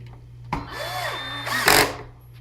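A power driver runs a screw into a Triton TRA001 router being mounted to a Kreg precision router table faceplate, giving a short whirring spin-up, a pitch sweep, then a sharp louder burst as it seats.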